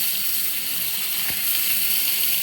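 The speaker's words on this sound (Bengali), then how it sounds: "মাছগুলো খুব সুন্দর করে ভেজে নিতে হবে।" Turmeric- and chili-coated hilsa fish fry in hot oil in a wok, a steady close hiss of sizzling throughout with a soft thump near the middle and no talking.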